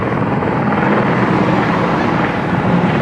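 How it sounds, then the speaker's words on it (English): Helicopters flying nearby give a loud, steady rotor drone with a dense low thump that fills the whole stretch, with no voices over it. "Ayun mga helicopter oh."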